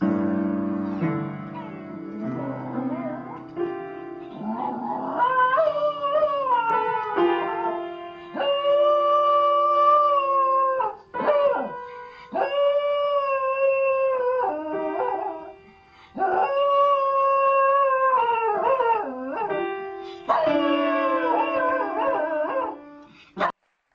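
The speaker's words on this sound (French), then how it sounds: "Quand le chien se met au piano." A dog howls along with a piano, long wavering tonal howls rising and falling in sustained phrases over piano chords, loud and close with brief pauses between phrases.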